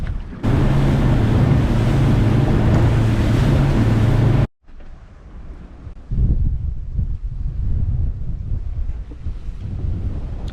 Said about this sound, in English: The wind is finally blowing, which means I get tomorrow off.